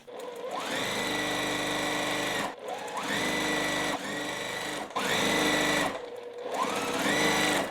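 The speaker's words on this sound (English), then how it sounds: "we're going to sew" A sewing machine stitches a quilt block in four loud, steady runs separated by brief pauses, close and alone with no talk.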